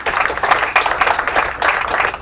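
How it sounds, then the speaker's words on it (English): A restaurant press-conference audience gives Jon Witz a round of applause, with dense, lively clapping filling the whole short stretch at close range. "Let's give John a recognition round of applause."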